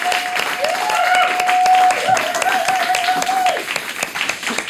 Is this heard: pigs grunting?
no